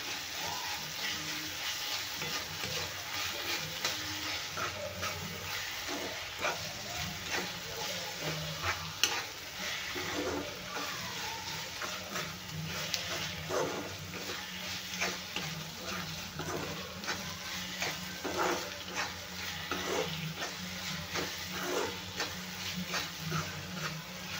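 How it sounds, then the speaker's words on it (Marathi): Ginger garlic paste frying in hot oil: a steady, close sizzle runs throughout, with frequent light scraping and clicking from stirring layered on top. "आता आपण घालूया त्याच्यात आलं लसूणची पेस्ट, 1 चम्मच। ते छान तेलामध्ये भाजून घेऊया।"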